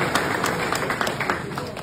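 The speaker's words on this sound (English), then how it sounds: "Give him a round of applause" A crowd claps for the champion Swaledale ram, Lightfoot of the Gillside, at a sheep auction, a steady ripple of applause with voices murmuring through it.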